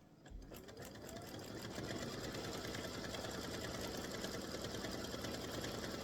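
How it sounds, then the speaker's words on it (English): A sewing machine satin-stitches around a baseball appliqué, starting up and settling into a fast, steady, close whirring hum that continues without pause. "Time to do the satin stitching around the baseball."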